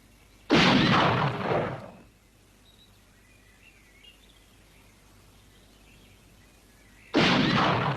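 Gunshots crack out in a classic John Wayne western, two loud sharp blasts with a ringing tail, separated by several seconds of near quiet with faint bird chirps, no voices between them.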